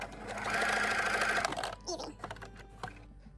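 A sewing machine bastes a crossover piece on a tank top, stitching in a fast, steady whir for about a second and a half before slowing into a few short, uneven bursts.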